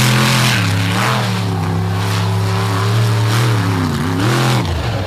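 The Dirt Crew Dozer monster truck roars around a dirt course at the 2024 Bloomsburg show, its loud, close engine revving and dipping in pitch as the throttle rises and eases.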